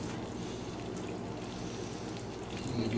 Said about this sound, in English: you can see it's bubbling in the pot real good there